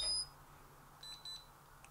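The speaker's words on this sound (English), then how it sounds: "if I press this button, it's gonna make it beep." A short, high electronic locator beep from a magnetic power bank, followed by a few quieter repeated chirps, close and clear against a faint background hum.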